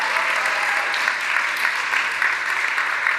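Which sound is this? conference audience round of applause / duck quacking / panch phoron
conference audience round of applause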